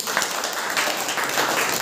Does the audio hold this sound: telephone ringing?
no